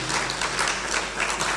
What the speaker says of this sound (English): Let us applaud the sister as she comes to present to us.